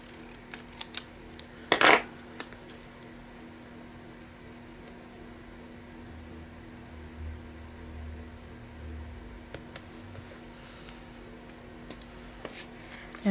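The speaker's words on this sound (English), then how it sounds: "I'm just gonna cut the bottom of it off" Scissors cut through the bottom of a cardboard box, a few sharp snips and crunching cuts clustered early, followed by quieter scattered clicks and handling noise against a faint steady hum.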